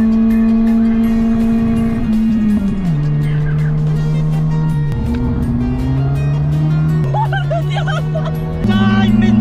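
A customised Fiat car racing at speed roars loudly and close, its engine pitch climbing and then dropping in steps through several gear changes, with a slight surge near the end.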